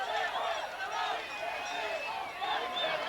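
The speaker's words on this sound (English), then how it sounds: "the crowd is alive" Stadium crowd at the 1998 CONCACAF Women's Championship football final between Canada and Mexico, cheering steadily after a headed goal, a dense continuous roar with a broadcast commentator's voice over it.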